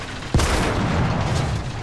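A tank cannon fires once in War Thunder, with game sound effects and gunfire turned up to maximum: a sharp, loud boom followed by a sustained rumbling roar and crackle that carries on to the end.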